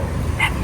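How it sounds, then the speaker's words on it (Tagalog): Several dogs bark at a house with a brief yip over a dense, noisy outdoor background, heard as one quick burst. "Ang dami mong aso."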